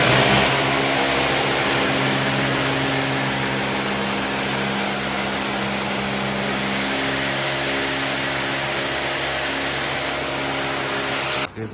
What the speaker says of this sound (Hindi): अभी छतों में छेद कर रहे हैं।